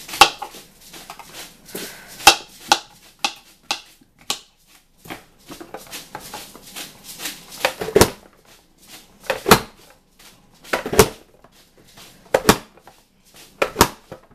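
Cucumber and onion being chopped with a kitchen tool, irregular sharp clacks and taps of the blade striking the board, some in quick bunches and others spaced out, close and fairly crisp with no talking.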